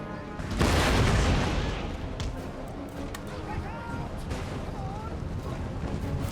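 Cannon artillery fire in Empire Total War, a heavy boom rising early then rolling on as a sustained rumble, with voices and battle noise continuing underneath.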